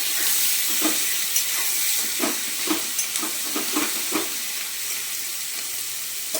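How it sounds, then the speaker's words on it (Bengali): Garlic and capsicum sizzling steadily in a hot pan, with a bright continuous hiss of frying and periodic clacks of a spatula stirring and turning the pieces, close and loud, no voices. "এবার রসুন ক্যাপসিকামগুলো দিয়ে দিচ্ছি, নেড়ে চেড়ে ভেজে নেবো"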